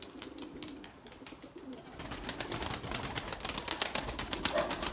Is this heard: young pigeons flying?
yes